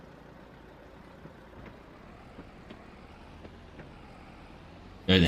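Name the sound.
truck engine in Farming Simulator 25 video game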